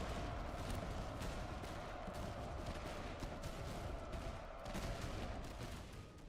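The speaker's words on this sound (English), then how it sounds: "the enemy shot at the cavalry with artillery and just took out most of our cavalry unit" Artillery and gunfire rumble through a battle in the game Master of Command, a dense, continuous barrage of overlapping shots and booms heard at a steady distance without speech.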